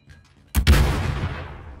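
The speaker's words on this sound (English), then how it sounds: "Stun grenade!" A stun grenade goes off in the Warzone battle royale game, one sharp, loud blast followed by a ringing wash that slowly fades over more than a second.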